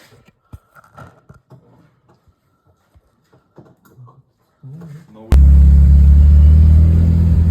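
A Nissan 300ZX under restoration, after standing unused for five years, fires up with a sudden loud, steady engine roar that follows a stretch of quiet clinks and light knocks.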